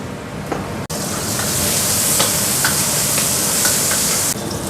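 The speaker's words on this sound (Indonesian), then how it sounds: "Tak tumis dulu ya, ben wangi." A close, loud, continuous sizzle of food being stir-fried in a pan, with light scraping and stirring ticks recurring through the steady hiss.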